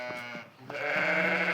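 Young lambs for sale bleat in a pair of wavering calls, the second longer and louder, close to the listener with no talk.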